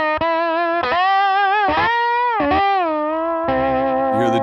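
Slide guitar played without damping the strings, ringing with sustained layered tones and extra string noise and buzz through a distorted, effected amp sound; loud and continuous, with several slides and note changes and no talking.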